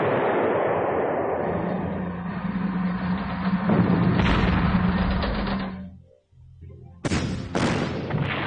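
Rumbling artillery fire and booming explosions fill the Panzer Corps battlefield in a loud, dense barrage, drop to a brief near-silence, then break out again in sharp blasts.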